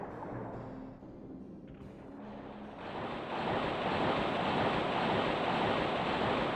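Rushing water from a waterfall in the video game King's Field II, a steady broadband roar that swells louder after a few seconds and holds continuously, with no talk.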